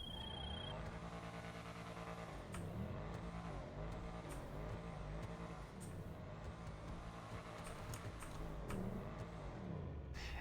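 The Shafter V12 Armored car engine in GTA Online rumbles steadily at idle with a deep, throaty drone and occasional faint clicks over it.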